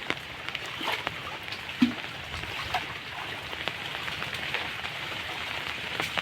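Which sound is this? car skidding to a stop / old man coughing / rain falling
rain falling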